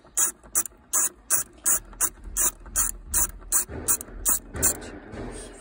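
A ratchet undoes 10 mm bolts on a 2018 Nissan X-Trail during a gear selector replacement, giving a loud, close series of about a dozen regular clicking bursts with brief pauses between.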